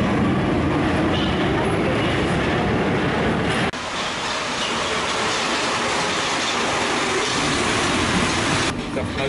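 A Paris Metro train rolls along the line with a loud, continuous rumble and rattle of wheels on track, the noise shifting abruptly partway through as the car moves.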